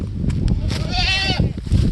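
A goat lets out one wavering, nasal bleat close by at a goat market, with background chatter and shuffling around it.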